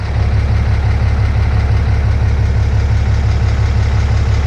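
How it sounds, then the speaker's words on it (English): Cummins diesel truck engine idling up close before an exhaust paint job, a loud, steady low rhythmic chug with even pulses and no talking. "Let me get you a before sound of the truck before I paint it, so I can maybe see if there was a sound change."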